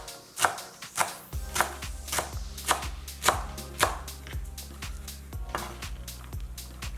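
A knife slices through collard greens on a cutting board in a quick, regular series of crisp chops with thumps on the board, close and clear, with no talking.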